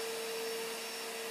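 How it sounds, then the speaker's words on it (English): A Hoover vacuum cleaner drones steadily in the background, a constant mechanical whine with a sharp steady tone and no voices over it. "There's a Hoover in the background"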